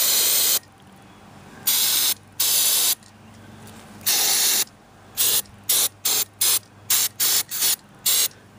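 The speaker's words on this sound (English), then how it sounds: "spray these sockets with some contact cleaner" Contact cleaner sprays from an aerosol can onto the sockets of a 1947 Hallicrafters SX-43 radio: several long hissing bursts, then a rapid run of short sharp spurts, close and loud with quiet gaps between.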